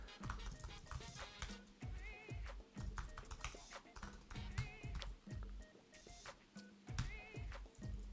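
Irregular clusters of quiet keystrokes on a computer keyboard while coding in PHP, tapping in short bursts with pauses, faint and close, with occasional talk in between.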